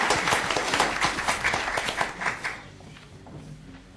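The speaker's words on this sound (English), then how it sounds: "sure, let's get around the applause." Audience applause at a city council meeting, a dense burst of many hands clapping that fades out over the last second and a half.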